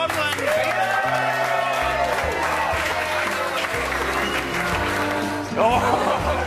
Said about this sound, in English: A round of applause for three times gold medalist,